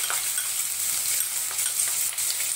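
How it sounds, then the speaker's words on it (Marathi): Finely chopped onions with a pinch of asafoetida sauté in hot oil in a pan, a dense, steady, close sizzle with faint stirring scrapes throughout the short stretch, no voices. "2 मिनिटं आपण कांदा चांगला परतून घेऊया।"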